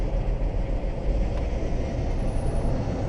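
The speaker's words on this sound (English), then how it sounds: "Yeah, it's idling pretty good right now." An Acura car that overheats and idles roughly when cold runs at idle close by, a steady low engine rumble continuing evenly with no voices.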